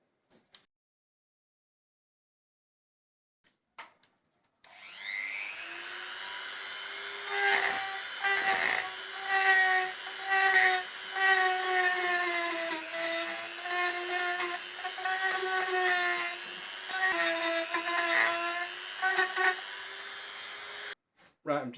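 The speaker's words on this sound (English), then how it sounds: "I'm going to use this cone-shaped router bit to dig out the cracks" A power tool with a cone-shaped router bit whines steadily and rises in pitch as it digs out cracks in laurel wood, with a sustained, tonal buzz broken by short chattering dips while cutting.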